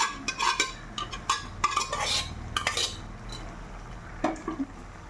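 A spoon clinks and scrapes in a pot as country chicken curry (natu kodi pulusu) is mixed into a paste, with quick close clatters in a short burst.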